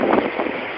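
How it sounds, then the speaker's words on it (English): A strong nor'easter wind gust roars loudly against the microphone outdoors near uprooted trees, a broad, buffeting rush that surges and then holds steady. "Here comes another gust."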